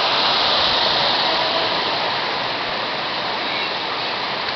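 A river and waterfall on a falls trip produce loud, constant rushing white noise that holds steady throughout, with no talk over it.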